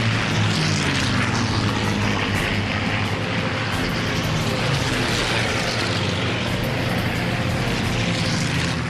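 World War II propeller fighter planes in aerial combat over an airfield: a loud, steady, droning roar of aircraft engines that fills the whole stretch without a break, with no voices.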